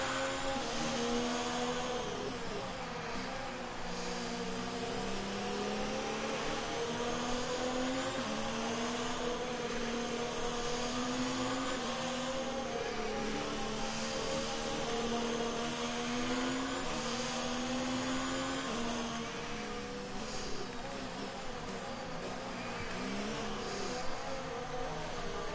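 F1 car engine in F1 2019 revs while held for a practice start. The high whine rises and dips in pitch over and over for a long stretch, loud and continuous.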